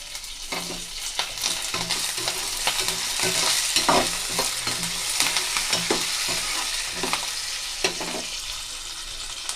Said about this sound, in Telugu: ఇప్పుడు ఇందులోకి అయితే నేను కరివేపాకుని అయితే యాడ్ చేశాను